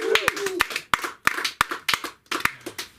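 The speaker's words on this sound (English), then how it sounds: "Clap it up for Christmas." Audience at a Friday comedy open mic clapping in several short bursts with brief gaps between them, hands striking near and crisply.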